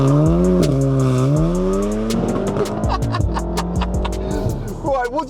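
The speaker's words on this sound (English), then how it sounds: "So I'm currently in a Racing Line Stage 2 tuned Volkswagen Golf R" A Racing Line Stage 2 tuned Volkswagen Golf R accelerates hard, heard from inside the cabin, with the engine note climbing and dropping through gear changes, loud and close over a steady rumble, with a voice talking briefly over it.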